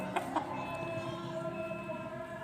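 Village chickens being fed bean sprouts in the late afternoon give a couple of short, soft clucks near the start, over a faint ambient hum with low background murmuring.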